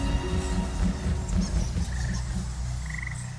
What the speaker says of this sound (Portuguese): Os sapos de caverna também se abrigam na escuridão.